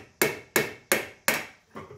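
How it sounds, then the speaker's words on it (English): A hammer strikes a suspension rod on a Classic Mini during a suspension cone replacement: five sharp metallic blows at a steady rhythm, close and loud, with brief decays and no talking. "we're gonna go ahead and take our hammer"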